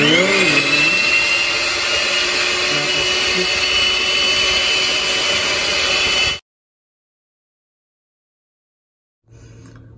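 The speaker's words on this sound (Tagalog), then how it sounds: "It took us like 8 minutes using this blender, hand mixer." An electric hand mixer whips cream, whirring steadily and loudly for several seconds, cuts off into silence, then starts up again briefly.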